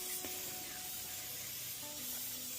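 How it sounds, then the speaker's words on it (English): Continuous hissing of an aerosol can spraying lacquer onto a wire dragonfly, held close and fairly even throughout the short clip. "Give it a good spray all over."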